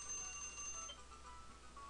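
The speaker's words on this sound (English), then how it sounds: "my alarm is going to go off and it's probably going to scare me" A faint electronic ringtone plays steadily, thin high tones holding over a quiet background hum.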